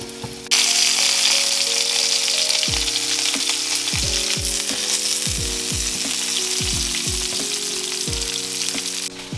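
Cornmeal-coated catfish frying in oil, a loud steady crackling sizzle that bursts in sharply and holds, close up, over a low droning tone, with no voices.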